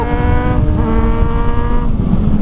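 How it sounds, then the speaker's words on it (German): A car with a loud aftermarket exhaust and its dB killer removed drives close by, a steady harsh engine roar with rising and falling revs and no talking. "Digga, dein Auspuff!"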